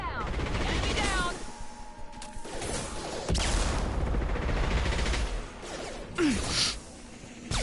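Mass Effect 2 firefight with bursts of rapid gunfire and impacts, alongside weapon effects and in-game voices over a constant background.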